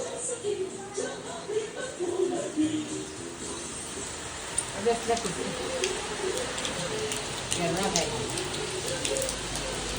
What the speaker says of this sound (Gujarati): પાછી વરસાદ પડો જો.